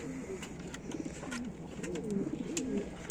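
Pigeons in a loft coo repeatedly in soft, rolling bursts, close by, with faint clicks and rustles around them.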